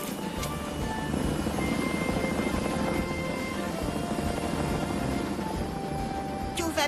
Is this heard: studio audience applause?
no